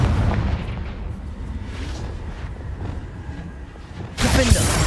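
A Confringo explosive spell from the video game Hogwarts Legacy goes off with a loud, sudden boom near the end, after a few seconds of steady game ambience and soft crackling.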